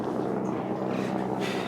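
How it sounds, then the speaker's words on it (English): A helicopter near the Jungfraujoch in the Swiss Alps above Grindelwald makes a steady, broad mechanical drone throughout. It sounds fairly distant, with no speech over it. "There's a helicopter over there."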